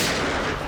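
A dense, loud burst of gunfire crackles through a shootout in a police drama, a single short blast of shots with no talking.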